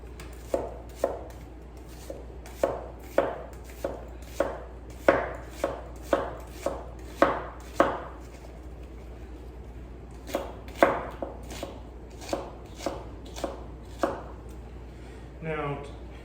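A knife chops onion on a cutting board in left-handed cuts, about twenty crisp even knocks in two runs with a short pause between, close and moderately loud with a faint voice near the end.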